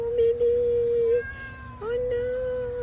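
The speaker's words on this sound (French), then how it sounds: "J'entends un 3e chat qui miaule" A house cat meows repeatedly, loud and close, in a few drawn-out, rising and falling cries separated by short pauses.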